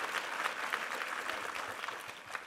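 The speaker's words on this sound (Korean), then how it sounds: "4부까지 수고하신 우리 챔버에게 한번 힘찬 격려의 박수 부탁합니다" A church congregation applauds the chamber ensemble during a Sunday service, a brief burst of dense, fairly faint clapping from the crowd that fades slightly toward the end.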